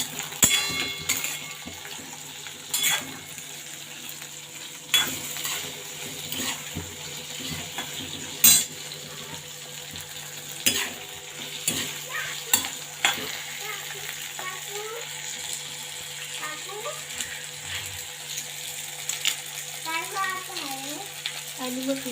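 Chillies fry in a hot pan with a steady sizzle, punctuated by repeated scraping stirs and occasional metallic clinks of a spoon against the pan, up close.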